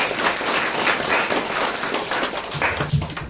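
Applause at an art forum general meeting, a dense, steady round of clapping from a seated audience, close and lively, holding for a few seconds with a few heavier taps toward the end.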